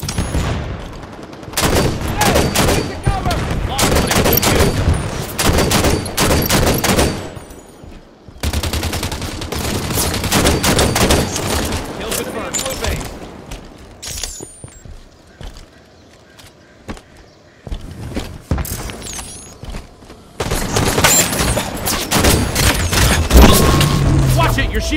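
Gunfire in the video game Halo 5 during a Team Slayer match: loud bursts of rapid shots and booms come in long volleys, broken by brief lulls.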